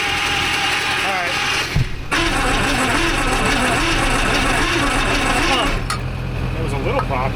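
An Allis Chalmers forklift engine runs at a steady loud idle with an uneven, popping beat, a brief dip near the start, and people talking over it.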